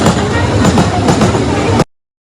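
Busy railway station platform at Chengannur: a loud, dense wash of rumbling noise and crowd commotion that cuts off abruptly after about two seconds.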